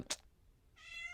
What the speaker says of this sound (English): I'm just hoping that he stops meowing for a few minutes so I can get this done